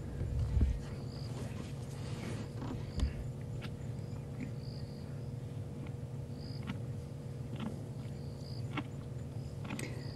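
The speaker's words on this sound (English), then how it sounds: "Suddenly, there are crickets stridulating around the place." Crickets stridulate at night in the Sabi Sand bush, faint repeated chirps over a low steady hum, with a couple of soft knocks.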